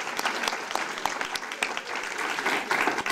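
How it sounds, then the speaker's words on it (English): Steady applause from a crowd, dense clapping that holds throughout without a break. "Let's give them a round of applause."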